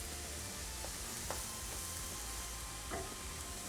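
Spinach frying in a pan gives a steady, close sizzle with a few soft stirring scrapes and clicks over constant hiss.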